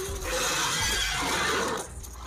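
A horse in Devil May Cry 3 lets out a loud, drawn-out whinny lasting about two seconds, up close and dominant over game background noise.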